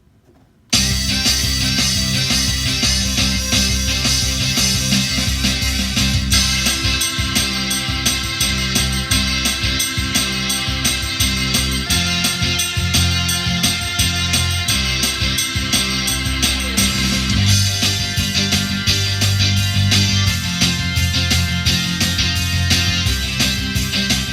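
A full, loud rock groove on a Roland VA-76 arranger keyboard with drums, bass and chords playing steadily throughout, with no talking.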